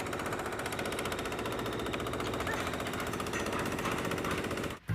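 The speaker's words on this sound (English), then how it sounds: "Did somebody ask for more jackhammer noise?" A jackhammer pounds steadily with rapid, relentless hammering, loud and continuous, cutting off abruptly near the end.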